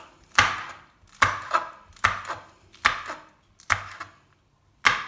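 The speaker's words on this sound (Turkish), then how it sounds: "Biberimizi de doğruyoruz." Six distinct, well-spaced knife chops strike a cutting board up close as peppers are chopped, each a sharp crisp thud with a brief trailing rattle.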